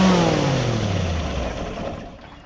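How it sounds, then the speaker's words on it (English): A twin-cylinder engine revs loudly and close by, its pitch sliding steadily downward as the roar fades slightly over a few seconds. "it is very important for you to increase the RPM first"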